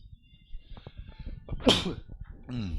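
A single sharp sneeze bursts out mid-clip, loud and close, between stretches of quiet talking.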